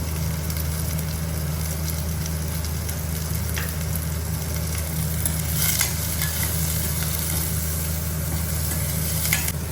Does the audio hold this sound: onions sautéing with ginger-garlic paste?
yes